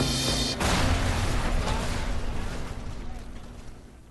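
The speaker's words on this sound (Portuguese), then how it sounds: "uma explosão irrompe em meio aos restos do avião" A loud explosion bursts out amid the wreckage of a crashed airliner, followed by a long, roaring rumble that slowly decays into a fading, echoing tail.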